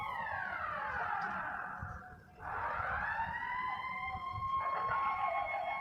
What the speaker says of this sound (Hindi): वो है मस्जिद का सायरन।